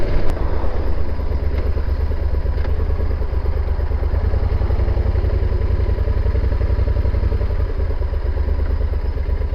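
A Yamaha Super Tenere motorcycle engine idles loudly and steadily while a rapid, irregular knocking clatter from something loose rattles along with it throughout.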